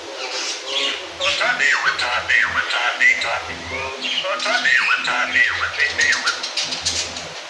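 Busy, varied myna bird calls with whistles, squawks and chatter repeat throughout, fairly close, with a low background hum underneath.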